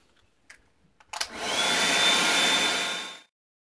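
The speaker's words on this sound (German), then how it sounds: "gehe ich mit dem Föhn so ins Fell, dass es sich scheitelt" Hair dryer blow-drying a Bolonka Zwetna dog's fur: a few soft clicks and handling knocks, then the dryer switches on with a steady, loud, close airy whoosh for about two seconds before cutting off abruptly.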